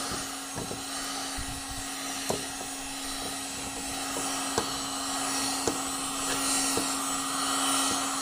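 A heat gun warms a dented plastic car bumper with a steady, even blowing roar and a constant hum, broken by a few faint clicks.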